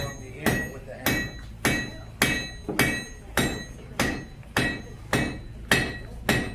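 A blacksmith at Landis Valley Village & Farm Museum's Harvest Days hammers hot metal, drawing it out. About nine loud, sharp ringing blows land at a steady, unhurried rhythm, each followed by a short fading ring.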